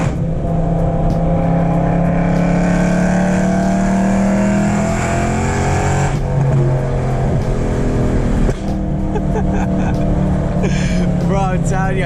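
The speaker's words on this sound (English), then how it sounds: "Literally not used to how loud this car is, how this car drives." A BMW with a straight-piped exhaust, an E92 M3 or 335i, drives with a loud, continuous engine drone that rises and shifts pitch as it accelerates, with people talking over it inside the cabin.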